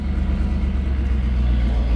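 A 1942 Ford SnoGo snow plow engine idling, a steady low, heavy rumble, close and loud, with no talk over it.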